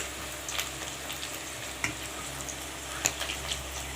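Prawn pakora batter frying in hot oil over lowered heat, a steady soft sizzle with scattered pops and crackles, close and fairly quiet with no voices.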